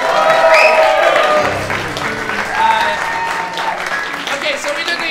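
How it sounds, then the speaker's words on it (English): Applause from a live comedy-improv audience, loud and close, mixed with voices and a little cheering throughout. "Give Luke a round of applause."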